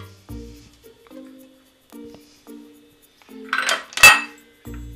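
A cooking pot is set down on the stove with a clatter of metal against metal, a sharp clang near the end among softer knocks and scrapes of kitchenware, close and fairly loud with no talk.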